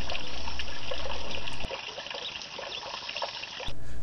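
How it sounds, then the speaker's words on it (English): A stream trickles and babbles steadily nearby on Boney Mountain Trail, a constant gentle flowing sound with a brief dip in loudness partway through. "you can actually hear some water"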